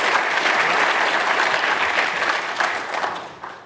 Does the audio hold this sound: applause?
yes